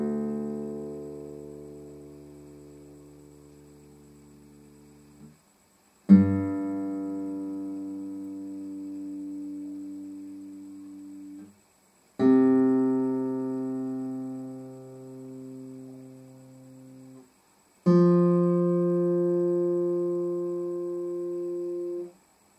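Four strings of a down-tuned acoustic guitar are plucked one at a time, each note ringing out for several seconds and fading before the next, close and clear with no talking.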